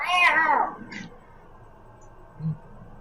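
A person's voice imitates a cat's drawn-out meow, mimicking a cat heard in a video game, loud and close at the start and then fading into quiet room noise.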